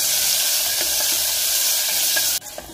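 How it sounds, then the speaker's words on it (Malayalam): Garlic and chopped tomato sautéing in a pan for rasam, a loud, dense, continuous sizzle with faint stirring taps, cutting down abruptly to a quieter hiss near the end. "ഇതിലേക്ക് ഒരു വലിയ തക്കാളി ചെറിയ കഷ്ണങ്ങളായിട്ട് അരിഞ്ഞത് ചേർത്ത് കൊടുക്കാം. ഇതെല്ലാം നന്നായിട്ട് വഴറ്റിയെടുക്കാം."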